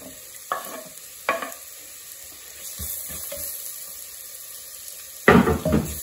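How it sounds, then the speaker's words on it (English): Ginger frying in oil for mutton do pyaza, a steady soft sizzle with a few clacks of a spoon stirring, ending in a louder scraping stir near the end. "I'm gonna cook this ginger for like 2 minutes."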